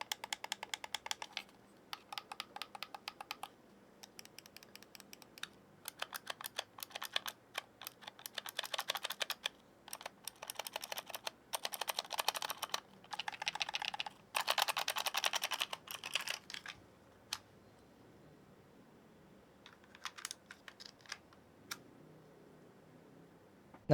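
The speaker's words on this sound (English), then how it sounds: "Now here's a little sound test of the buttons." Button clicks from the Ragnok 2 FireGrip, a gun-shaped gaming mouse: close, crisp plastic clicking in rapid bursts and runs, separated by short silent pauses, with no talking.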